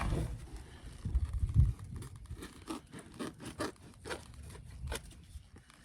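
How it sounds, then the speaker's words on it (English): Scissors cutting a rubber roofing patch along a marked line give a string of close, crisp snips and rustles at an uneven pace, with a heavier handling thump early on. "Gonna cut it on that line I made."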